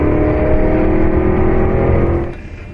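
A Porsche Cayenne GTS engine revs loud and steady under hard acceleration, a continuous close roar that drops off sharply near the end.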